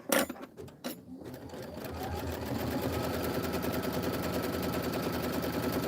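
A sewing machine sews a Kimberbell quilting project at a sewing shop. After a few short stops and starts it settles into a fast, steady mechanical chatter, close and fairly quiet.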